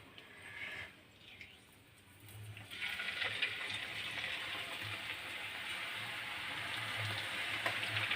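Jantikalu snacks frying in hot oil, a soft, continuous sizzle and hiss that swells after a quieter start and then holds steady, faint and close, with no talk.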